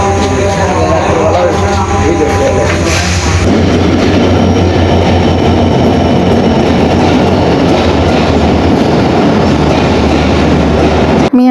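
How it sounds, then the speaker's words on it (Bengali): Early morning train pulling into a railway station, a loud rumbling roar with rattling wheels and clatter building after the first few seconds and continuing close by. "ফজরের ট্রেন কিন্তু ঢুকে গেছে আর ট্রেনের আলো দেখা যাচ্ছে অলরেডি।"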